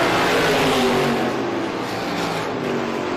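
Race cars, the leaders among them, roar off the fourth corner of an oval track in a loud, continuous engine drone that stays dense and powerful throughout.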